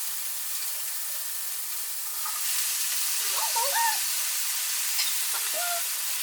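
Eggplant added to a hot stir-fry pan, a loud steady hiss of sizzling that swells slightly midway, with faint clinks of utensils close by.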